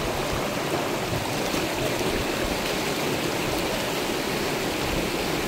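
A Konkan river stream rushes over stones, a constant close-up wash of flowing water with no voices.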